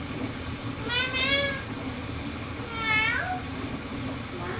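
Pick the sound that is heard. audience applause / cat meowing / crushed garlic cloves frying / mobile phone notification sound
cat meowing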